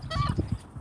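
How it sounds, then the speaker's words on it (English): Seagulls at an outdoor eating spot give a quick burst of harsh, honking calls, several squawks in rapid succession, close and fairly loud. "I'm being attacked by seagulls."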